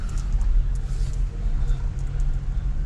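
A car with a VQ37 engine and a K&N drop-in air filter drives along, its low engine rumble and road noise steady and heard from inside the cabin.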